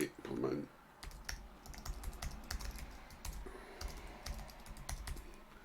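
Typing a name into a web form on a computer keyboard, quick soft key clicks in short irregular runs, with a voice talking faintly at the start.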